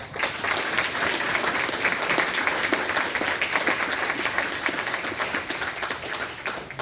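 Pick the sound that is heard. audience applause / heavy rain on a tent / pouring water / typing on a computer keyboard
audience applause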